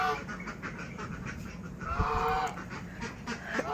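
Seven ducks quacking in a busy outdoor setting, several overlapping calls close by, with a louder burst of quacks midway.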